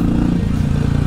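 Custom Honda V-Blade motorcycle being ridden, its engine giving a loud, steady, close-up drone with a throbbing low rumble and no change in pitch over about a second.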